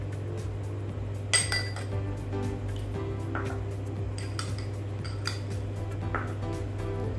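An empty bowl being handled in a home kitchen while preparing raw milk: a few sharp clinks and taps of the bowl and utensils, scattered and close, over a steady low hum with no talking.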